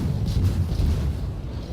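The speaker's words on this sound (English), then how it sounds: "I continuously shoot at Henry in hopes of getting another fire." Naval gunfire from warships in World of Warships booms in dense low rumbling bursts, a steady heavy battle roar with a couple of louder swells, no voices.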